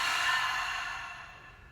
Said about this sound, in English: Keep on holding and then exhale.